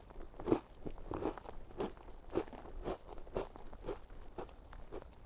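Someone bites into and chews a spiced IKEA Christmas biscuit, giving a run of close, dry crunches roughly every half second, steady and loud, with no talking.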